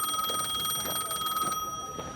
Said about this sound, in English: a payphone ringing?